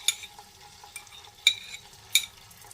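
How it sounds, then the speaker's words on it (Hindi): Ginger and garlic spice paste for a Kashmiri korma sizzles in a pan while a spoon stirs, with a few sharp scraping clinks. "इसको भून लेती हूँ।"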